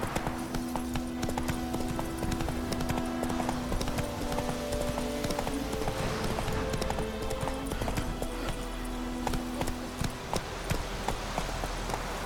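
Roach, a horse in The Witcher 3, gallops with a steady, loud clip-clop of hooves running throughout, layered over constant game ambience and music.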